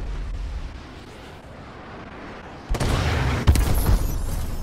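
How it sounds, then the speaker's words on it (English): Missile strike explosions in the video game Call of Duty: Advanced Warfare: after quiet background ambience, a sudden loud, rumbling blast erupts, followed by further heavy booms and a sustained roar of debris. "Friendly missile strikes inbound."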